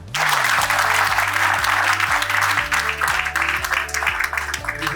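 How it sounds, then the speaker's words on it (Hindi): A seminar audience bursts into sustained applause, dense and steady clapping that fills the room for several seconds, with a low musical tone sounding underneath. "तो अपने आप के लिए एक ताली हो जाए।"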